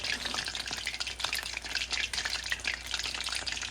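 Soft battered fish for British fish and chips frying in hot oil in a wok, a steady crackling sizzle with dense bubbling pops. Heard fairly quietly and close, with no talk.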